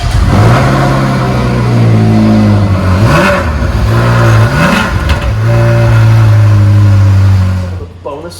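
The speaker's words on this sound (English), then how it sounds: "the only reason that anybody wants to start buying a Ferrari is the sound" A Ferrari engine roars loud and close, holding a steady drone and then briefly revving up twice before settling again. It cuts off abruptly near the end.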